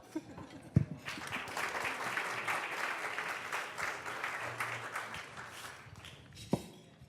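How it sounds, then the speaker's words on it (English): An audience at a space cooperation talk breaks into sustained applause, a dense wash of many hands clapping that swells and holds for several seconds before tapering off, with a couple of louder knocks near the start and end. "All right, clap a little more"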